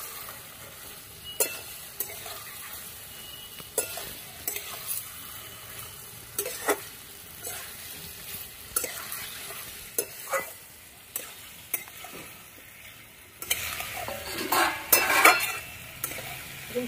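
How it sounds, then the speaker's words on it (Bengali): Fried cauliflower and potato are stir-fried with spice paste in a pan, a soft sizzle punctuated by repeated spatula scrapes and knocks, louder frying surging near the end. "এবার ভেজে রাখা ফুলকপি আলুটা দিয়ে দেবো। ভালো করে একসঙ্গে সবকিছু কষিয়ে নেব।"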